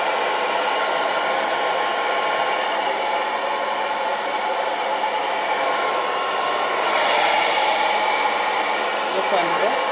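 A hair dryer blow-drying hair runs continuously as a loud, steady whoosh close by, with a brief change in pitch as it moves, and no talking.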